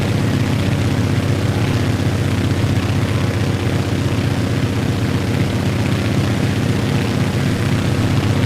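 A propeller airplane engine drones loudly and steadily in flight, a constant heavy hum with a faint pulsing beat from the airscrew, with no talk.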